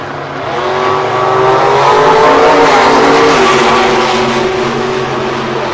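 A 1989 Conquest drag racing car roars loud and close at a drag strip, its engine note rising and holding in a sustained revving blast for several seconds, with no talk.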